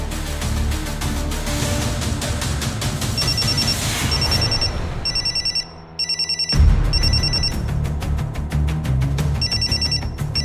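A telephone rings with repeated electronic trills, loud and close, a brief gap interrupting the ringing before it resumes steadily.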